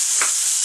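A venison neck roast browns in a hot pan, giving a brief, loud, continuous hissing sizzle with no voices.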